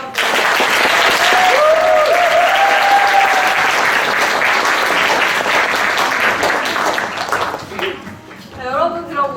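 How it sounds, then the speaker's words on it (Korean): Audience applause at a live cooking and book concert, a dense, loud wash of clapping that holds steady for most of the stretch, then thins near the end as a few voices rise over it. "박수 한번."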